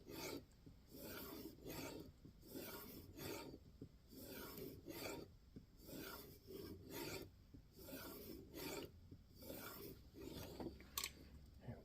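Steady back-and-forth sharpening strokes draw a Kizer Domin knife with N690 steel across a stone, a rhythmic rasping swipe repeated about twenty times at close range, with no voices.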